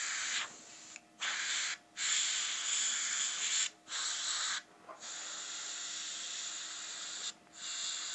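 An airbrush sprays thin paint onto a Predator Elder head sculpture, a close, steady airy hiss in bursts of a second or more, broken by short pauses.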